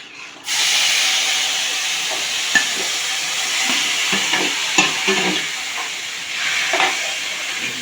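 Jamun fruit peels fry in a hot kadai, a loud, close, continuous sizzle and steam hiss broken by scraping stirs and occasional knocks of a spoon against the pan.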